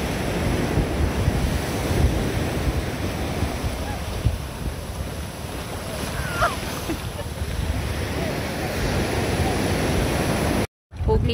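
Big ocean waves on the way to Capones Island, rolling and washing continuously against the shore, with heavy wind buffeting the microphone over a broad, constant roar.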